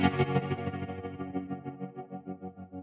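A single sustained guitar chord played through tremolo, chorus and reverb pedals rings out after a sharp strum, its volume pulsing rhythmically as it slowly decays, alone without talk.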